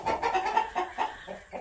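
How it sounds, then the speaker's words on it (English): Young chickens and a rooster cluck in a backyard coop, a close, busy run of short pulsing clucks and calls overlapping one another. "We've got the one rooster in here with them."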